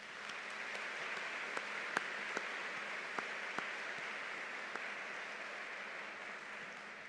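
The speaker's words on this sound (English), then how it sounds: "How about a round of applause for Jessica?" Applause at a civic celebration: a soft, steady wash of many hands clapping, heard from a distance and fairly quiet, with a few sharper individual claps standing out.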